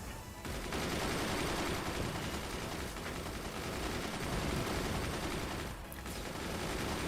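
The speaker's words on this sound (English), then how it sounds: "Machine gunners fire on so many things." Machine gunners firing nonstop in the strategy game Forts, a dense, continuous rattle of rapid gunfire that runs steadily for several seconds at a moderate level, with only a brief dip near the end.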